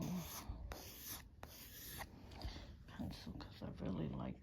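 A soft 6B pencil scratches across paper in short repeated strokes while drawing hair, producing close, quiet, rhythmic rasping with brief pauses between strokes.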